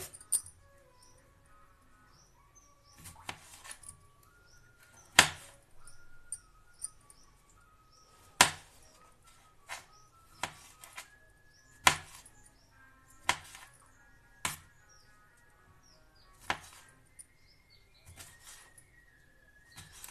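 A knife cutting eggplants for a stuffed eggplant curry, with sharp single chopping clicks every second or two, alone over a faint background of crickets and birds.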